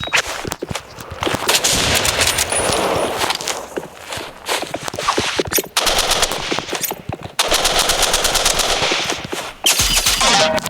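Automatic weapon fire in a Minecraft rivals match, dense rapid bursts broken by short pauses, loud and close, with footstep-like game sounds mixed in and no talking.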